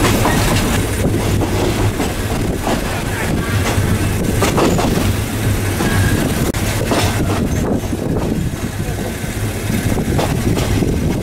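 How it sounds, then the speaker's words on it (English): Steady rumble and rattle of a passenger train riding the rails on the way to Hue, Thailand trip, with rhythmic clicking, wind buffeting and a constant loud roar throughout. "Then we got on the train to go to Hue."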